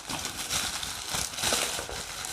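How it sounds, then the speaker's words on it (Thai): Plastic packaging around a pair of MONQIQI HX021 stereo headphones being torn and crinkled open by hand, a steady close-up rustling and crackling with a few sharper rips, without any talking. "ฉีกเลย ปับปับปับปับ"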